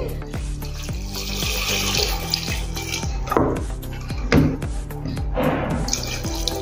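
Water splashes and runs steadily into a metal cooking pot, with occasional clinks and knocks of cookware.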